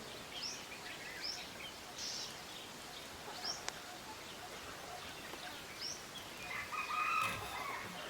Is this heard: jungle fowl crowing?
yes